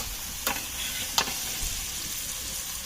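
Carrots, tomatoes, potatoes and beans fry for a vegetable pulao, giving a steady, close sizzle broken by a few sharp clinks of stirring.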